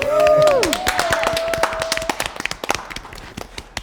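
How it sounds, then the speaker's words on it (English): A sustained tonal voice sound fades into a burst of clapping from a group, the claps thinning out toward the end. "Let's have a round of applause to the people."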